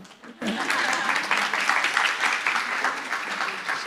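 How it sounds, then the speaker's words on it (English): Audience applause closing a panel at a privacy and personal data protection seminar, starting abruptly after a brief pause and holding as a steady, dense wash of clapping with faint voices mixed in. "She leaves for the applause."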